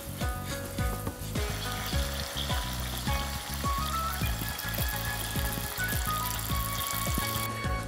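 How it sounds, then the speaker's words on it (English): Dipping soup for spicy tsukemen simmers and sizzles steadily in a pot after soy sauce and sugar go in, a loud, continuous bubbling with rhythmic stirring or clattering pulses throughout, no talking. "once it comes to boil like this, add in soy sauce and sugar. And keep simmering for about 2 more minutes."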